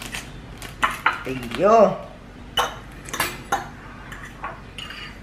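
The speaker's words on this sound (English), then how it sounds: "I'm just gonna mix my noodles now." Spicy noodles are stirred in a bowl with utensils, making irregular clinks and scrapes of metal against dish. A voice speaks briefly between the knocks.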